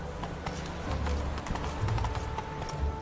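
Hooves of the horse Roach galloping in The Witcher 3 video game, a steady rapid clip-clop beat mixed with low rumbling ambience and game sound, fairly subdued.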